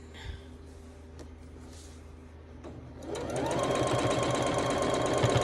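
After a few quiet seconds, a sewing machine starts up and runs at a fast, steady stitching rhythm while piecing a quilt, close and clear, with no talking.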